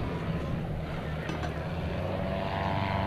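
A propeller airplane flies at the 2004 Cold Lake International Airshow, a steady engine drone that stays constant and fairly loud throughout.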